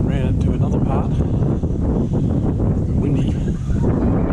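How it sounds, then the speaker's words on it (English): Strong wind buffets a GoPro microphone outdoors, a constant loud low rumble with gusty roaring swells, while a person's voice is faintly audible under it. "Windy."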